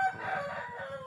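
A rooster of the sisik naga temurun chicken type crows close by, a sustained, strained call lasting about a second.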